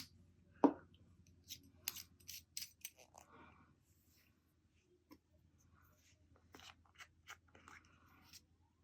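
Fountain pen with a slightly scratchy nib writing on paper: a string of short, dry scratching strokes in irregular bursts, close and quiet, over a low steady hum, with one sharper tap near the start.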